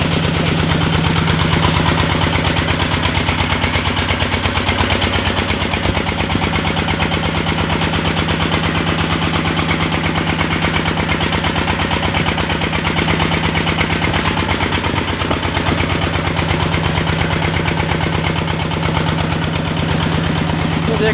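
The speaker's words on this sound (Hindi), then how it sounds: "ये जो इंजन है, इंजन चला रहा है इस ट्यूबवेल को, ये देखें ये चल रहा है" A diesel engine drives a tubewell water pump on a farm in a village among crops, chugging at a steady idle with a firm, even rumble that stays loud and close throughout without a break.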